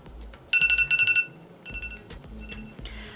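A phone timer set by voice assistant goes off, a loud, close electronic alarm chiming in rapid repeated pulses, then a softer, broken-up tone pattern continuing afterward.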